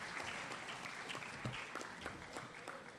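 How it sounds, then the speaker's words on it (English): Sustained applause from an audience honoring a young woman who shared her concussion story at a brain injury awareness event, steady dense clapping throughout with no talk. "let's give Lilia another round of applause"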